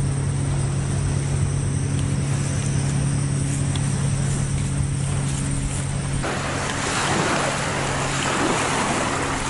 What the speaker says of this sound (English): It's the weekend, so there's a lot of boats going by.